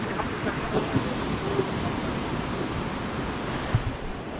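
Rushing water of the Neelam River at the India-Pakistan border in Keran Valley, Kashmir, heard as a steady broadband roar close by, with a few faint knocks over it and no talk.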